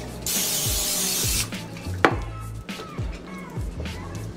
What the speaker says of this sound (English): You gotta spray it down so you can lay it down.